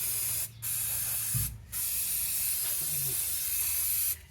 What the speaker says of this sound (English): I'm going to spray this area a bit with brake clean